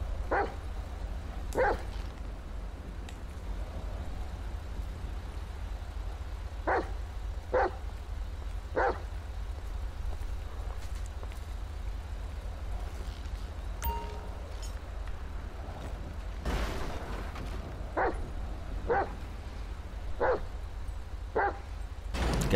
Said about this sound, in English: So the dog is inspecting the vehicle.